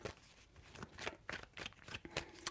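Tarot cards are shuffled by hand in a run of soft, quick riffling and slapping bursts, faint and close, with no talking.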